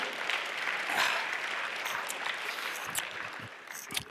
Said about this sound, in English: I've never been applauded to getting drunk